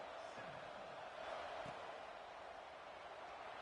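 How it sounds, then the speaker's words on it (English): Stadium crowd at a college football game roars steadily after a Huskies touchdown, a dense sustained wash of cheering with no break. "This crowd."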